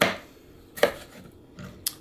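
A knife slicing through cooked steak for fajitas on a cutting board, with a few separate crisp cuts spaced apart, close and fairly quiet with no talk.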